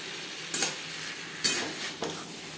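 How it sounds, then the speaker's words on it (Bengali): A spoon stirs potatoes and cauliflower with shrimp in frying spices in a pan, a steady sizzle underneath three distinct scraping clinks of the utensil against the pan, close and fairly loud. "মশলার সাথে ও মাছের সাথে বেশ ভালো করে মিক্স করে দেবো"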